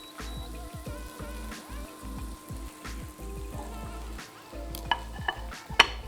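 Sliced garlic and mushrooms frying in a pan for chicken chasseur are stirred, giving repeated low scraping knocks over a faint sizzle, with a few sharper clicks toward the end.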